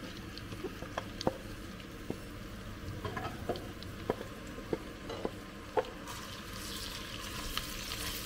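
Onions frying in a pan for chicken curry with tomatoes, a faint steady sizzle dotted with soft scattered pops and crackles, some stirring clicks, no voices.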